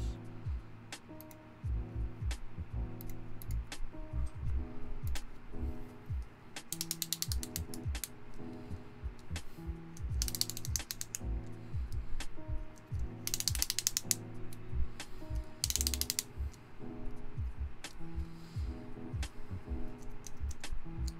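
Mechanical keyboard switches are tested on a freshly soldered PCB, with a dense run of sharp clicks and clacks in uneven bursts, close and continuous, with a few brighter rattling flurries and no talking.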